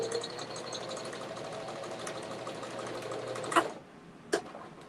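A sewing machine stitches a custom-size hanging fabric basket, running in one steady, close whir for about three and a half seconds before stopping, followed by a couple of sharp clicks.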